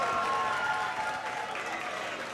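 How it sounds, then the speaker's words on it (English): Crowd at a robot fighting championship match cheering and applauding in a steady, loud wash, with a voice speaking over it. "the crowd cheers"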